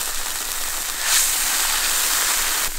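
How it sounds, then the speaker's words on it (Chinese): Eel slices boil in a pot of broth with chili and wine, a soft, steady hissing bubble heard up close, briefly swelling louder near the middle. "黄鳝下锅煮去"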